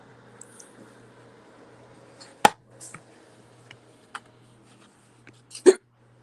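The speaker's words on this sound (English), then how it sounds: "I have the hiccups." Hiccups from a person in a quiet indoor room, two sharp loud hiccups about three seconds apart with a few fainter clicks between, over a low steady hum.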